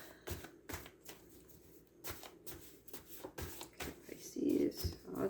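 Tarot cards being shuffled in quick papery riffles and snaps, a string of short bursts close by, with faint voice-like sounds in the background.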